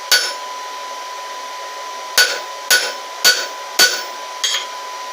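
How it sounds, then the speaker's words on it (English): A hammer planishes hot forged steel at black heat on a twisted handle, smoothing out dings: six sharp, ringing metallic blows land close by at uneven intervals, the first alone, then five in quicker succession, the last lighter. "Take out some of the little dings and whatnot from our hammer blows."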